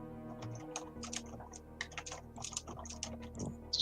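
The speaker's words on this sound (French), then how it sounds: "je nettoyais le clavier touche par touche" Someone taps a computer keyboard key by key, giving close, irregular clicks scattered across a few seconds with short pauses and no speech.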